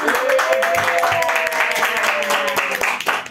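Audience members clap for a guest on a government child-welfare podcast from Brebes Regency. The steady, close clapping runs for a few seconds, with a voice sounding over it.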